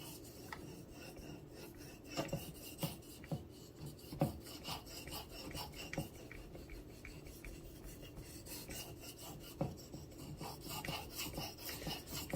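A Buck Strider knife sharpened freehand on a whetstone: steady rasping strokes of steel on stone, close up, rhythmic back-and-forth scraping with occasional sharper scrapes, no voice.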